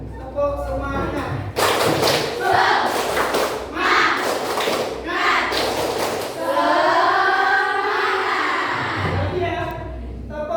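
A classroom group performs the tepuk semangat spirit cheer, bursts of rhythmic clapping thumping in sharp clusters between loud voices chanting along.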